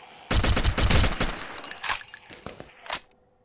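Rapid bursts of gunfire from shooting zombies in the video game Gun Builder ELITE 2.0, a dense volley followed by a few scattered shots that fade out.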